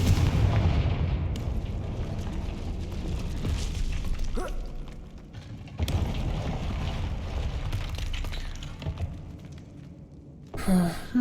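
Spell blasts and booming impacts from the Confringo fire spell in Hogwarts Legacy, several loud bursts over rumbling game ambience, with sharp breaks between them.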